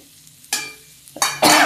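Fasting-style potatoes stirred in a pan with freshly added coriander, the heat just switched off: two bursts of scraping and sizzle close up, separated by a quiet pause.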